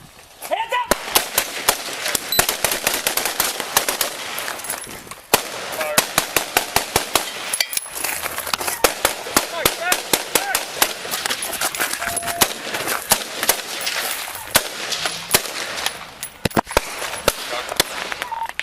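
Gunfire erupts during a police shootout with suspects, dense rapid volleys of sharp, loud shots cracking continuously for many seconds, with shouting voices mixed in between the bursts.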